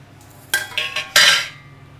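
Dry ingredients rattle and scrape in a dry pan: coriander seeds, chana dal, urad dal, dried red chillies, fenugreek, pepper and cumin roasted without oil, heard as two or three close, sharp bursts of clattering with quiet gaps between and no talking.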